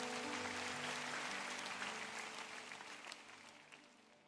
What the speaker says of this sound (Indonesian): Berikan tepuk tangan untuk Tuhan yang mengasihi